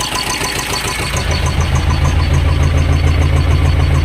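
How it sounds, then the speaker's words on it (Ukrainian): A steady, rumbling T-25 tractor engine idling close by, its low chugging growing slightly heavier partway through and running continuously. "Тракторець начебто працює непогано"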